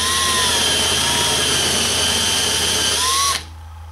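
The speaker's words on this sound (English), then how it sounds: "you'll need to simply drill out the rivets that attach them to the van" A power drill drilling out rivets on a Vanagon van's bumper whines steadily at high speed, loud and close, for over three seconds before abruptly stopping.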